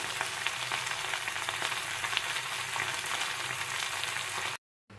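Leafy greens frying in a pan, a steady close sizzle with faint stirring that runs unbroken until a brief cut near the end.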